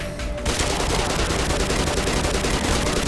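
Dense, continuous rapid gunfire with explosive bursts from Black Mesa, loud and unbroken for about three seconds after a brief quieter start.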